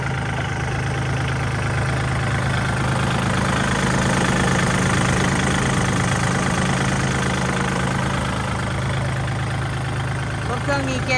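Kubota L4018DT farm tractor from 2018 idling with a steady, loud low rumble and a faint knocking texture that holds evenly through the whole stretch, with a voice talking over it.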